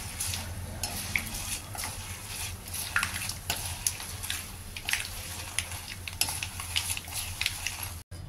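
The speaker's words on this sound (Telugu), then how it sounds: "వీటిని మిరపకాయలు మంచి మరూన్ కలర్ వచ్చే వరకు ప్లస్ ఆవాలు చిటపట్లాడే వరకు వేయించుకోవాలి" Red chillies and mustard seeds frying in hot oil for tamarind chutney, a dense continuous sizzle with steady spluttering and crackling pops, loud and close throughout with no voices.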